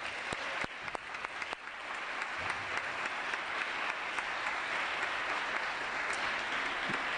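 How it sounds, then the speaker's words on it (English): A room of young people at a Chicano Latino Youth Leadership Project assembly applauds themselves, a few sharp early claps swelling into sustained, loud, even clapping with no talk over it. "Let's give all yourselves a round of applause."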